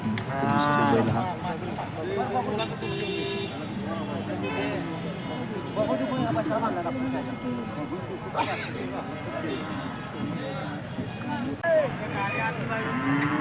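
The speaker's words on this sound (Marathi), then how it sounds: "मस्त दिसतोय बैल हा." A large bull at a village cattle market, deep loud moos rising over a crowded outdoor din of voices and other livestock, with people talking nearby throughout.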